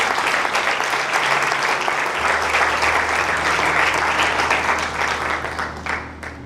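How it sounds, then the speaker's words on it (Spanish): A church congregation applauds during a faith class, a loud sustained round of clapping that holds steady for several seconds and then starts to fade toward the end, with a low hum underneath. "¿Alguien le aplaude al Señor si lo puede creer?"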